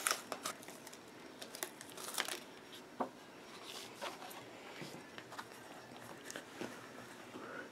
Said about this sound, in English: remove the paper